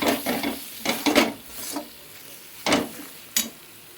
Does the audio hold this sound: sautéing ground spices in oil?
yes